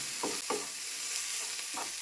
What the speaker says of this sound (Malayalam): ഇതെല്ലാം കൂടി നന്നായിട്ടൊന്ന് മിക്സ് ചെയ്യാം.